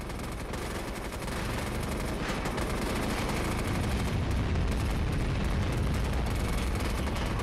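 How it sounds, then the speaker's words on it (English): Dense, continuous rumbling blasts of a cluster bomb airstrike in the video game MAG, a loud, unbroken wall of overlapping explosions and crackling gunfire-like bursts with no clear gaps. "He's going to call in a cluster bomb to clear the enemy off this wall"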